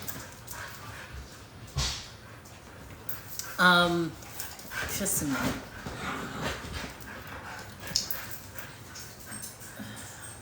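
Dogs whimpering and giving a couple of short barks at a distance, faint beneath someone talking over steady background noise.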